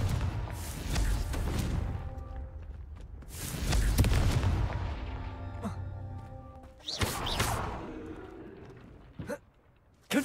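A Confringo fire-blast spell erupts in Hogwarts Legacy with several loud whooshing bursts and crashes separated by quieter stretches, and faint voices come through in between.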